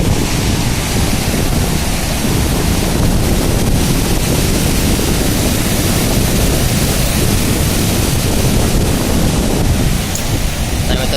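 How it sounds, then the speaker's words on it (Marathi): Heavy surf crashes continuously on Nandgaon beach on the Konkan coast, a loud, dense roar of breaking waves mixed with strong wind buffeting the microphone, with no clear pauses between surges. "बघा मी तो लाटा कसल्या खवल्या जोरात"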